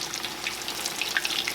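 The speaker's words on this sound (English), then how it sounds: "I've got my chicken breaded here and it is ready to go into the pan" Breaded chicken pieces fry in oil in a pan, giving off a steady, close crackling sizzle with scattered pops and no voices.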